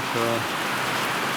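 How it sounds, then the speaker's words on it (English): Steady, loud rain falling outdoors near a loaded trailer, a dense hiss of drops throughout, with a brief voice at the start. "raining right over here"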